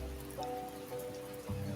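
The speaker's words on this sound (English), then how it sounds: "Got caught in the rain?" Rain falls softly outside a cafe as a faint, steady patter, with low sustained tones humming quietly underneath.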